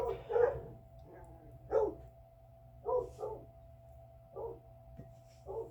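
A dog barks repeatedly indoors, a series of five or six separate barks spaced about a second apart over a low steady hum, moderately near and fairly quiet.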